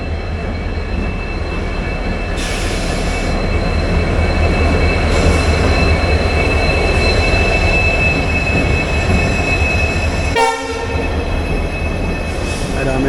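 Diesel locomotive hauling a passenger train as it pulls away from a station, a loud continuous rail rumble with steady engine drone, faint wheel squeal and a brief dip near the end.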